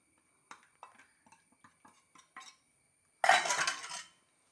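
A spoon clinks and taps lightly against a pan while a thickening milk and plantain mixture is stirred. A run of soft, irregular knocks is followed by a louder, rough scraping swirl.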